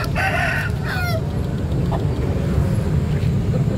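Chickens at a chicken market in Makassar crow and cluck close by, a rooster call standing out at the start over a dense, steady background of market noise and bustle.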